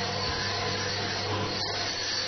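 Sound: polishing a jade luminous cup

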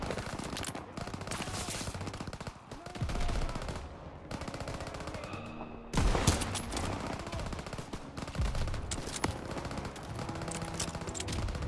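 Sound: gunfire from the video game Call of Duty: WWII

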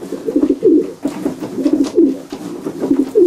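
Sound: pigeon cooing in a breeding loft

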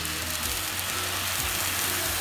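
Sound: smoked sausage, pineapple and teriyaki sizzling on a hot grill

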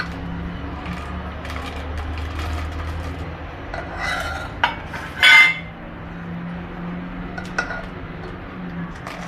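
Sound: stirring and mixing dry fruit shrikhand with a spoon

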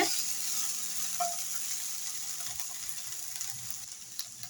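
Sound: okra frying in a pan

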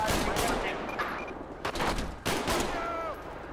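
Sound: gunfire in video game GTA 5

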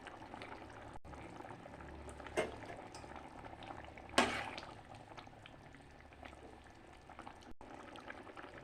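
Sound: banana flower curry broth boiling

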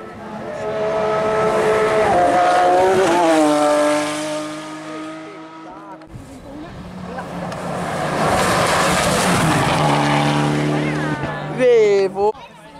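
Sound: Porsche rally car racing on a special stage

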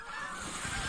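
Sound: geese honking during a goose hunt

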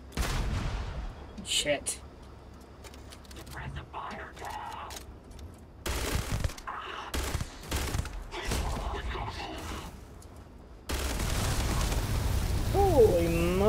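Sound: gunfire from a gun in a video game

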